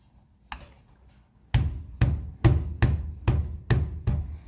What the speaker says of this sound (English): I'll get my trusty light duty ball peen hammer and just tap it in.